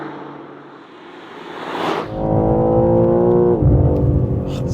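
A 2024 BMW M3 Touring with all-wheel drive accelerating hard, heard from inside the cabin as a deep, rising engine drone that swells into a strong, sustained roar, with no talking.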